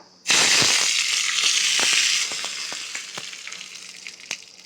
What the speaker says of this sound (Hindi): तेल अच्छे से गर्म हो चुका है, धुआं निकलने लगा है, तो इसमें हम डाल देते हैं लाल सूखी मिर्च, कढ़ी पत्ता